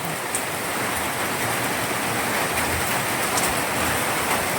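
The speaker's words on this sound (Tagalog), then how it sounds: "Umuulan na." Rain pours steadily in early morning at a rural house garden with vegetable plots and flowers, a dense, even hiss of falling drops that stays loud and close throughout, with no voices.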